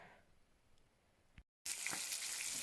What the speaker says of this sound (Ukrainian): Це смажиться в мене рибка, це товстолоб, шматочки такі.